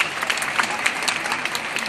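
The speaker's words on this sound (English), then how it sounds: "give them a big round of applause" Audience applause at a children's school stage show of dance and song: steady, dense clapping from a crowd, fairly close and continuous for the whole stretch, with no voices standing out.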